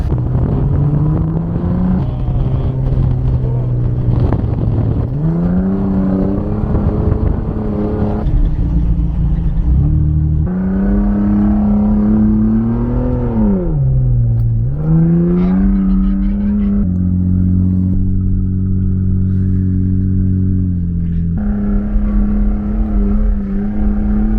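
A car driving up steep desert dunes on a safari in Dubai, its engine droning loud and close throughout, rising and falling in pitch as it revs and shifts through the sand, with no talk over it.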